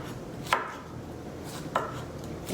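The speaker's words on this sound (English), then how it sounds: "then you can kind of cut it into little" Sharp knife chopping cucumber into small pieces on a cutting board, three crisp separate chops at a slow steady pace, close and clear, with no talking.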